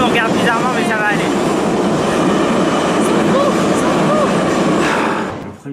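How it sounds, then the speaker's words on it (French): Moscow metro train running underground, a loud steady rumble with rattling wheels and screeching squeals carrying through the whole clip before it fades at the end; some faint voices are mixed into the din. "Nous sommes dans le métro russe à Moscou"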